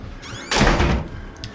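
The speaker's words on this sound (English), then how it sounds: "Why does he slam the doors?" A heavy door slams shut once inside an asylum in the horror game Outlast, a loud, close thud with a brief rattle, preceded by a faint creak and followed by quiet room tone.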